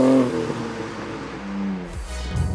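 A BMW M3 engine revs and falls back, a low droning growl rising and easing off, then idles briefly before another short blip of throttle.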